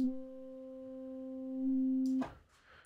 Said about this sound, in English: The sub oscillator even have a sub tone, which will add more distortion to the sub.